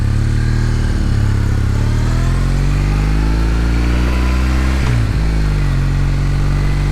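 A Kawasaki W800 motorcycle climbs a steep hill with a loud, deep, continuous engine drone close by, pitch dipping and recovering around a gear change midway, with no talk.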